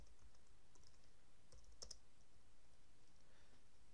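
Faint, quick keystrokes on a computer keyboard come in a short burst of soft clicks with one sharper double click, against a low, steady room hiss.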